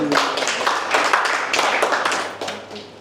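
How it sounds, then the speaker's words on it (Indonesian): An audience claps steadily for about three seconds, a dense wash of hand claps that tapers slightly toward the end. "Terima kasih tepuk tangannya."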